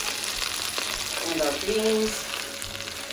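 Oven-fried chicken sizzles steadily in its hot pan, a close, continuous crackling hiss that runs under a brief spoken remark.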